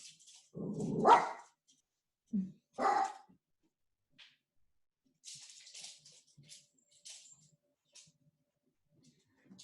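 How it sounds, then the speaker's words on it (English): A dog barks a few times close by, short sharp yaps separated by pauses, then quieter scattered noises and faint movement follow. "He likes to bark when I get excited"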